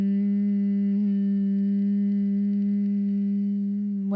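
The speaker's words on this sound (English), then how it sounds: "So you'll do a low humming on the exhale." Low humming exhale of Bhramari bumblebee breath: one steady, sustained hum with a rich buzzy tone, close and unbroken for about four seconds, with no talk.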